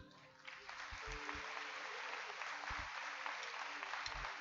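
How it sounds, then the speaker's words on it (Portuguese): A church congregation applauds together, a dense steady clatter of many hands at moderate distance lasting several seconds, with faint voices mixed in. "Aplauda o Senhor"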